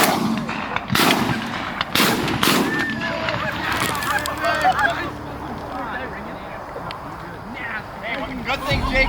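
Several loud shotgun blasts crack close by in quick succession during a goose hunt in a weedy field, followed by excited shouting from hunters and honking geese.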